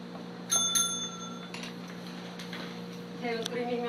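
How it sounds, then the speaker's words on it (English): A hand bell rung by a teacher in a classroom to signal stop, with a couple of bright metallic rings early on and more toward the end over faint room murmur. "When I ring the bell, that's a sign for you to stop."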